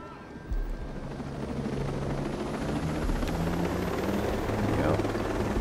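A helicopter in Ghost Recon Breakpoint, a steady, close rotor thrum and engine whine that swells slightly over a few seconds, while someone speaks over it.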